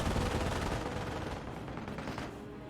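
Dense, continuous machine gun fire and overlapping gunshots from a WWII strategy video game battle in France, loud and relentless throughout with no pauses.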